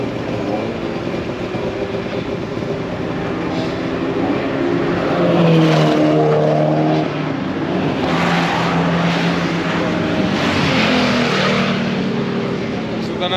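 A race car with a BMW engine and drivetrain roars past at a Saab festival, its engine note swelling and fading over a steady crowd-and-track background, with people talking over it.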